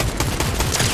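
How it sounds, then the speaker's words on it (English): Dense, continuous gunfire in a Fortnite Floor Is Lava match, close and loud, with overlapping shots forming a steady barrage for the whole second and no talk over it. "Shots from over there?"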